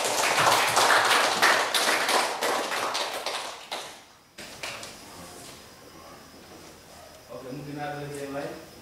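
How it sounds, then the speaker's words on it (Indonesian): Clapping from a school audience after a teacher's presentation, a dense burst of hand claps in the first half that cuts off abruptly, followed by quieter room sounds and a voice speaking. "Oke, tepuk tangan."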